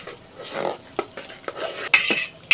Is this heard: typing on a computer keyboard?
no